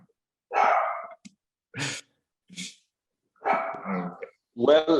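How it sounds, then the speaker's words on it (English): Pet dogs give a few short barks and huffs between stretches of a person talking close by, the yaps brief and separated by quiet gaps. "I'm sorry my dogs, say hi for the audience."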